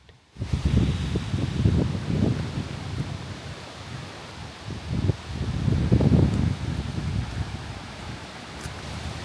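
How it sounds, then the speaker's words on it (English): Strong, relentless wind at a tent campsite in Canada's Badlands, roaring as a loud continuous rush with gusting surges and heavy buffeting on the microphone. "We walked to howling wind so strong our tent walls were touching the ground."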